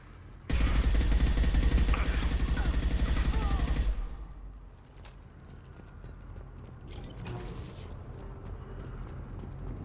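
Mass Effect gunfire as a weapon fires a high-impact shot: a loud, dense burst of rapid shots for about three seconds, cutting off abruptly and leaving a quieter rumbling game ambience with scattered faint clicks and clatter.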